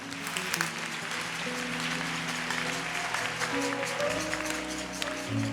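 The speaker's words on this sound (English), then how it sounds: "You clap your hands and you sit down." A church congregation clapping hands during a prophetic service, a steady broadband patter of applause running throughout at moderate level, with sustained musical or vocal tones underneath.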